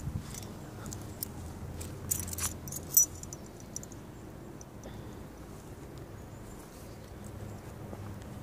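A bunch of keys jangles in short, light metallic bursts, with a few brighter clinks in the middle, quiet and close over a low background rumble.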